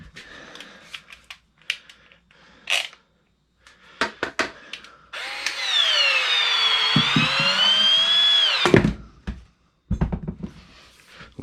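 A Milwaukee M12 cordless electric shear cuts a piece of scrap PVC vent pipe. Its motor whines steadily for about three and a half seconds, close and loud, with scattered handling clicks before and after.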